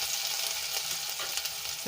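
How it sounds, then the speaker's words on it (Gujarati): Ginger, garlic and chilli paste sautéing in a pan for a Kathiyawadi drumstick kadhi, a steady close sizzle and frying hiss with faint stirring scrapes, no voices. "મિક્સ કરીને આપણે એને અડધી મિનિટ માટે સાંતળી લઈશું"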